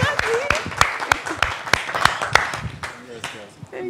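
A small group claps for a woman contestant after a game task, a loose, uneven scatter of sharp individual claps close by that thins out toward the end, with voices mixed in.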